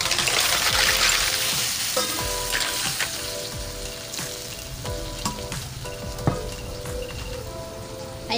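Mussels drop into a hot frying pan for a spicy seafood dish with corn, bursting into a loud, steady sizzle with scattered pops and stirring clatter that carries on throughout.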